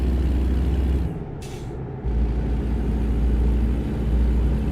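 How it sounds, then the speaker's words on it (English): A truck's Jake brake in a trucking video game rumbles loudly and steadily, briefly dropping out for a moment before resuming its deep, throbbing roar. "That's the Jake brake right there."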